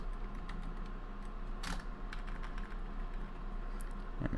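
Fingers tap a computer keyboard in quick, uneven bursts of crisp clicks, close up, with one louder clack midway and a steady hum of a room behind, no speech.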